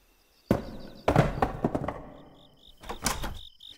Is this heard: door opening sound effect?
yes